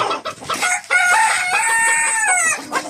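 Fancy breed chickens on a large farm in Kolkata: a rooster crows loudly and close by, with hens clucking around it and no talking.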